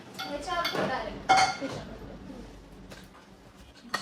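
Pans and dishes handled while setting up a new home kitchen: close clinks, clatters and a couple of sharper knocks, spread irregularly over a few seconds and fading toward a quieter end.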